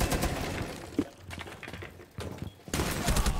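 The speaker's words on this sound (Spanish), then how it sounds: "¿cómo puede entrar una persona ruseando con una ametralladora que encima es una de las mejores ametralladoras del juego?" Rapid machine gun fire in the Rainbow Six Siege video game, bursts of shots crackling loudly at the start and again near the end with quieter thumps between.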